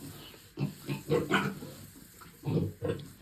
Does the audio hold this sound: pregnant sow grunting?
yes